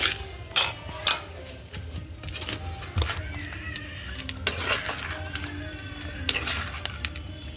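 A spoon stirs chicken pickle with turmeric in a pot over a wood-fired stove, with repeated scraping and metallic clinks at an uneven pace, close by, amid faint background noise.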